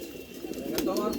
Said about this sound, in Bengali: এই যে বিভিন্ন প্রজাতির কবুতর